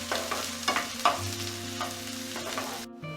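Chopped onions sizzle in a pan while being stirred, with a few quick scraping strokes over a steady frying hiss and a low hum underneath, close and moderately quiet.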